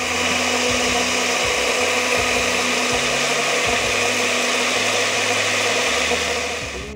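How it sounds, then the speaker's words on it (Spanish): A kitchen blender grinds pumpkin seeds with chicken broth for a green mole sauce, giving a loud, steady whir with a gritty, churning texture that winds down at the end. "Ahora toca el turno de las pepitas de calabaza que vamos a licuar."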